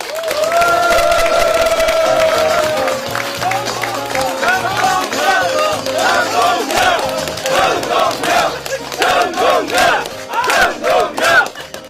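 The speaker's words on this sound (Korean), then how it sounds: "박수로 맞이해 주시기 바라겠습니다." A crowd at a Korean by-election campaign rally for the Gwanak-eul district cheers and shouts loudly while clapping, with voices chanting in rhythmic waves throughout.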